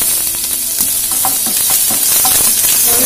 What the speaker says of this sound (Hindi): अब इसमें हम ऑनियन ऐड कर देंगे